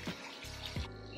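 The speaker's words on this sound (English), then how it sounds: "See how I'm pouring that out, y'all?" Water poured off washed rice trickles briefly in a short, faint splash with a quick rise and fall.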